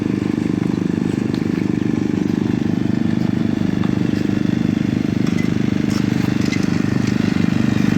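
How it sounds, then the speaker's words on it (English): A petrol water pump feeding a flat lay hose for gold prospecting beside high bankers, its small engine running loudly with a steady, unbroken drone. "I'm running the petrol pump again with the flat lay hose."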